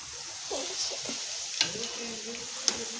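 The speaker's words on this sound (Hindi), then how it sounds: "फ्रेंच फ्राई बन रहे हैं।" Cut potatoes fry as French fries, crackling with a moderate sizzle, plus a few sharp clicks and scraping stirs close by.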